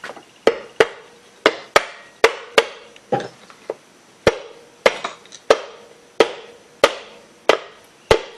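Repeated sharp soft rubber hammer blows on a Briggs & Stratton engine's metal, about fifteen strikes at a fairly regular pace, each a crisp knock with a short ringing decay, close by.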